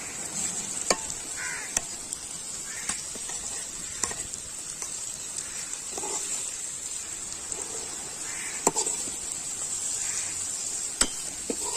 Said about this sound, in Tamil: இது கூட முட்டையை ஆட் பண்ணி நல்லா கிண்டி விட்டுக்கலாம்.